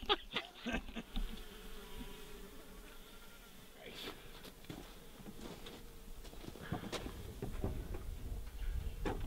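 Bees buzzing steadily nearby at a beehive, several insects droning at once, with scattered ticks and small knocking sounds mixed in.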